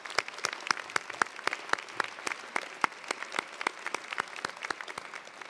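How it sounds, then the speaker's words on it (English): Applause at a university fall commencement ceremony honoring staff, a steady crowd patter with many crisp individual claps standing out, sustained throughout at moderate level. "let's offer a round of applause to the staff at UC Merced"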